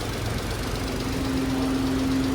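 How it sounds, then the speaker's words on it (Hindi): A small 660cc turbo engine idles with a steady drone and slightly uneven, knocking pulses from an idle misfire, close by with no talking. "660 सीसी टर्बो अच्छी आवाज़ दे रहा है, लेकिन हल्की सी कोई आइडल पे मिसिंग कर रही है"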